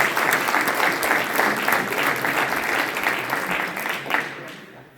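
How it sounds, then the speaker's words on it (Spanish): An audience gives a strong round of applause, dense and sustained clapping that holds steady before tapering off in the final second. "Un fuerte aplauso a nuestro amigo."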